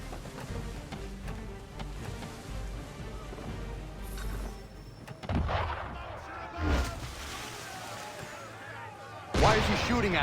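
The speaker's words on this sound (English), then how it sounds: "Why is he shooting at us?" Cannon fire at a ship in Assassin's Creed III Remastered, several heavy booming blasts spaced apart over a constant rumbling, noisy game soundscape, loud and close.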